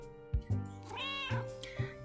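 White stray cat in the Cat Lady card game app meowing, a few drawn-out close meows over a faint hum, no talk.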